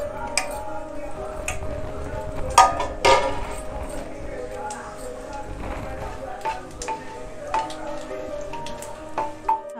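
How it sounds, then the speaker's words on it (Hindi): Bay leaves, dried chillies and cumin seeds sizzle in hot ghee as a tempering for dal makhani, with a soft steady crackle, scattered pops and light ticks. Someone talks over the frying. "3 चम्मच हमने डाल दिया घी, अब मैं उसमें फ़ोरन डालूँगी। 2 तेज़पत्ता है, 3 मिर्चा है, थोड़ी सी जीरा है।"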